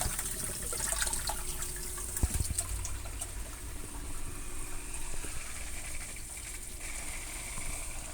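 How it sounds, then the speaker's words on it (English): A Fluval 407 canister filter on a turtle tank purges air from its water lines, giving a faint, continuous gurgle and rush of flowing water with no voices. "Getting just the rest of the air out of the lines. That'll go for a little bit and then we'll be running nice and smooth."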